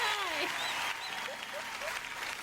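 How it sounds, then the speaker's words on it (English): A small burst of applause from a few people, loud and near at first and then settling into steadier clapping, with faint cheering and voices mixed in. "Someone just gave me a round of applause"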